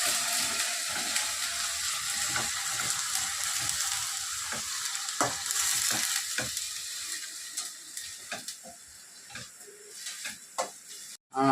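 Steady crackling sizzle of ground masala frying in a hot pan for chicken curry, with intermittent scraping clicks of a spoon stirring, continuous and fairly close.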